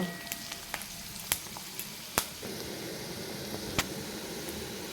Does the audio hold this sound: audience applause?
no